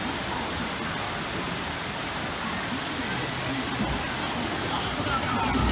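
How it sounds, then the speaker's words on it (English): Water rushing and splashing on a log flume ride at Kings Island, a steady broadband wash of spray and churning water heard close for several seconds. "That was a pretty good log flume."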